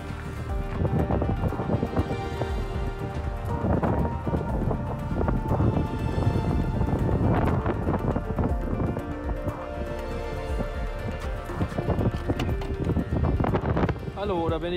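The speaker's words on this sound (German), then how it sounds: "ich werde jetzt hier wieder aus dem Wald rausstapfen" Heavy footsteps trudge out of a forest, crunching steadily and close to the microphone under loud, constant wind buffeting for the whole stretch.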